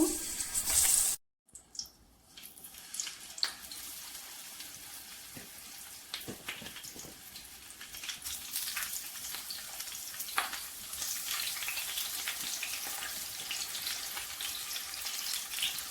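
Sliced eggplant fries in hot oil with a continuous, fairly quiet crackling sizzle and scattered pops, briefly interrupted near the start.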